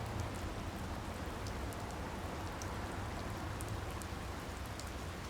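Steady, even rainfall in the video game Secret Files 2: Puritas Cordis, a constant hiss of drops on surfaces with faint scattered splashes, continuous throughout and free of speech.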